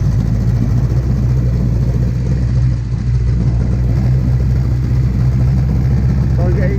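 An old 1962 Evinrude outboard boat engine runs at a steady idle, a loud, close, continuous putter with an even low rumble and no pauses; a voice talks briefly beneath it.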